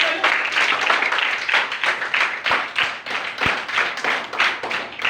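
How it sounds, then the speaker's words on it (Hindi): An audience at a lecture hall maths session claps enthusiastically, a dense, steady patter of many hands lasting about five seconds with slight swells. "जोरदार ताली अपने लिए बजाइए।"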